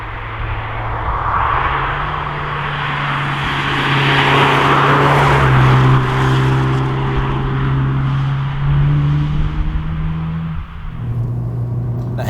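Audi S1 TDI driven hard with its diesel tuning box set to full attack, the engine droning steadily and loudly from inside the cabin, its pitch rising and falling through gears over constant road noise.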